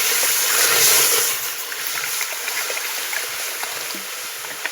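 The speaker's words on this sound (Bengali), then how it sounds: "আর 2 বাটির মতো মাপ করে একটু আন্দাজ করে আমি জল দিয়ে দিচ্ছি।" Water poured from a bowl into sugar to make syrup for a sweet, a soft steady trickle and splash close by that eases after the first second.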